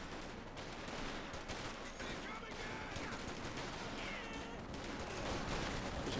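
Dense gunfire from infantry BAR rifles, mortars and other weapons in the World War II strategy game Company of Heroes 2, continuous overlapping shots and bursts under a caster's voice.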